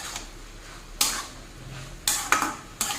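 A pan of mixed vegetable chorchori, made with bitter gourd, greens, sweet potato, aubergine, potato and lentil dumplings, is stirred over high flame, with three or four sharp scraping clanks of the spatula against the pan over a quiet background.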